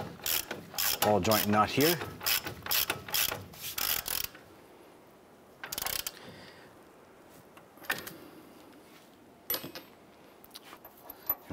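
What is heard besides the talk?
ratchet with 22 mm socket tightening ball joint nut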